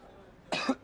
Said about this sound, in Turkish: Çok öksürüyorsun.